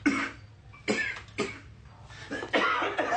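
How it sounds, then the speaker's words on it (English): Several sharp, close coughs come in separate bursts, some of them doubled, with short gaps between them and no speech. "You really ought to take care of that cough."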